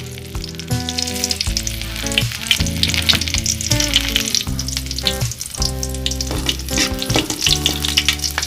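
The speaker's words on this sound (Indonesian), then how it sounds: "Setelah minyaknya panas, tumis bawang merah," Shallots sauté in hot oil for an Acehnese coconut-milk sponge gourd dish, giving a loud, close, continuous sizzle and crackle under prominent background music, with no talking.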